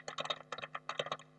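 Quick bursts of typing on a computer keyboard, several clustered keystrokes in short runs with brief pauses, close and clear.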